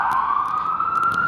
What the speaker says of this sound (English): the sirens have a different context now